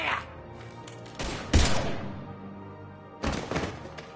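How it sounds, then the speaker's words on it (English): Heavy gunfire erupts in Mass Effect 3: a few dense blasts and thuds in short bursts, loud and close, with brief gaps between volleys. "Now open fire!"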